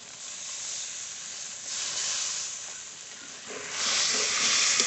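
Water poured onto hot spices with salt and turmeric in a pan, giving a close, continuous hiss and steam that swells in waves and grows loudest toward the end, with no talk.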